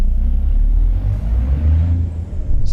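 International Lonestar truck in American Truck Simulator, a loud low engine rumble with a soft hiss of the air brakes, steady and close throughout.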